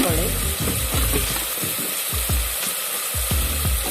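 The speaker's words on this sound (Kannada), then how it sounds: "ಇದೆಲ್ಲ ಹಾಕಿ ಚೆನ್ನಾಗಿ ರೀತಿ ಮಿಕ್ಸ್ ಮಾಡ್ತಾ ಇದ್ದೀನಿ" Tomato rice masala with red chilli powder and garlic, no onion, sizzles and fries steadily in a pan while a spoon stirs it in repeated scraping strokes, close and loud throughout.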